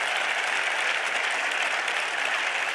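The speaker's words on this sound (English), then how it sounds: "Give yourself a round of applause for being here." A press-conference audience applauds steadily for a new Nebraska Football head coach, a dense, even wash of clapping from a roomful of people with no pause or break.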